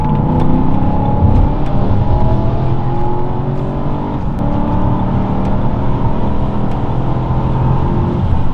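A Stage 2 BMW E92 M3 accelerates hard on a road, its engine a loud, continuous roar with rising pitch heard from inside the car, with no talking.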